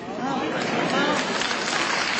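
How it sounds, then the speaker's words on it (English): A large crowd applauds a state senator at a Missionary Baptist Convention in Dublin, a dense, steady wash of clapping that fills the whole moment without a break. "A large crowd applauds State Senator Jason Carter as he speaks on faith and the roles of public service at the Missionary Baptist Convention in Dublin"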